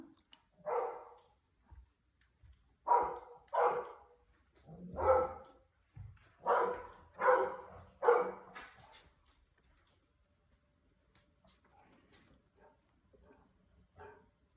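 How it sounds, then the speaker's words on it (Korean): A golden retriever barks at a dog swimming in a pool: a series of loud, close barks in uneven bursts, followed by softer whimpers and yips as it trails off. "비주만 물속에 들어가 있으면 저렇게 짖어"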